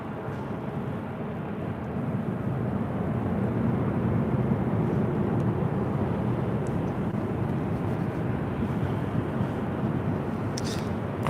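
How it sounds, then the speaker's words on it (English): A United Airlines Boeing 737 MAX 9 airliner arriving at LAX from Houston, a steady low jet roar that swells slightly and holds, moderately loud and continuous, with no talking. "This is United Airlines 1923 coming in from Houston Intercontinental on a MAX 9."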